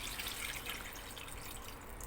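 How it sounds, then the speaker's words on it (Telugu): Water poured into a pot over raw fish pieces for a tomato fish curry, a quiet continuous trickle and splash, close and steady for the whole moment with no talk. "ముక్కలు మునిగే వరకు వాటర్ వేసేసుకోండి"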